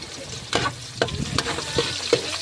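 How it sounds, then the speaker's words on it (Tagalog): Rice being fried in a large pot for breakfast, a steady sizzle broken by several distinct scraping stirs at irregular intervals, close and clear. "Marami-rami yung ating sasangag yan, isang kaldero."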